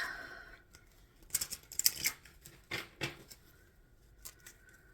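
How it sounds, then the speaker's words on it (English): Tarot cards being shuffled for a Leo reading, a run of papery riffles and soft slaps in short bursts, close and fairly quiet, with no talking over them. "Shuffling for our Leo collective for December 2025."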